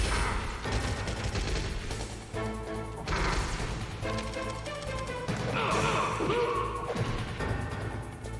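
Gunshots ring out in Metal Gear Solid on PS1, loud repeated bursts and impacts with crashing hits, mixed with game sound effects and little talk.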